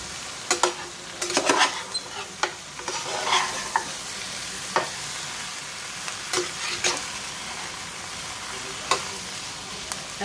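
Mutton is stirred and fried in a pan, with intermittent scraping strokes of a spoon and a soft sizzle running underneath across the whole stretch.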